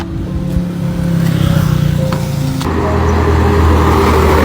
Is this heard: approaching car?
yes